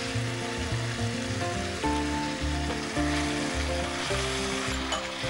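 Boiled mutton hits hot oil in a Bengali home-style mutton dish, giving a steady broadband sizzle with some stirring, heard throughout beneath louder background music.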